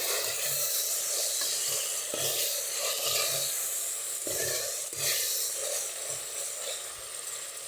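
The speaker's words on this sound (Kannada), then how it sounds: "ಸೊ ಇದು ಚೆನ್ನಾಗಿ ಫ್ರೈ ಆಗಲಿ ಮತ್ತು ಸಿಕ್ಕಿ" Chopped tomatoes with salt fry in a hot pan, a steady broadband sizzle running throughout, punctuated by occasional stirring scrapes and soft knocks, close and fairly loud with no talking.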